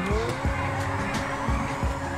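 A car drifting in GTA 5 on a FiveM server, its engine droning steadily while the tires squeal and skid in repeated rhythmic bursts, loud and close.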